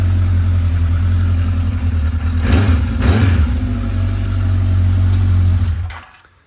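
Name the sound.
Honda CB1100F inline-four motorcycle engine running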